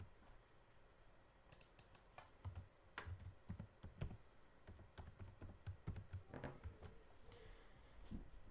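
A Wi-Fi network password is tapped out on a computer keyboard, close and fairly quiet, in uneven bursts of clicking keystrokes with short pauses between them.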